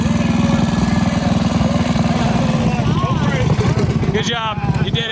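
A mini bike engine drones loudly and steadily throughout an enduro race, a buzzing, pulsing small-engine note close by, with voices talking over it near the end.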